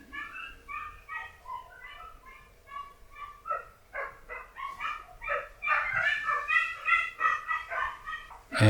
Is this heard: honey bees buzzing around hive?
no